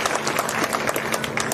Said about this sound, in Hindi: एक बार जोरदार तालियां हमारे सभी बड़े बुजुर्गों के लिए